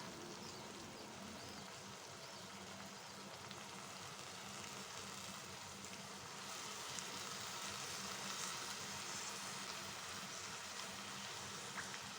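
Banana flower sizzling as it goes into a pan of softened, cooked-down tomatoes, a steady close frying hiss that swells slightly louder partway through, with no talking.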